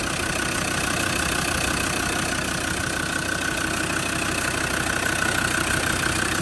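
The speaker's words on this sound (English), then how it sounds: "there we have just a straightforward Defender 90 TD5 engine" A Land Rover Defender 90 TD5 diesel engine idles steadily and close by, a constant low rumble with a fine rattling texture that holds even throughout, with no voices.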